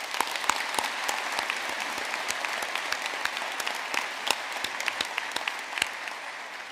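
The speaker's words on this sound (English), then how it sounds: "Let's give them a round of applause." A graduation audience at Ulster University in Belfast applauds a brass band, sustained dense clapping with sharp individual claps standing out, heard alone without speech.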